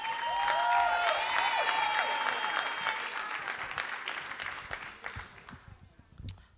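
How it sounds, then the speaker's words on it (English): Audience applause at a poetry event, the clapping loud and sustained at first, then gradually thinning and fading toward a few scattered claps near the end; no one speaks over it. "Can we give her a round of applause?"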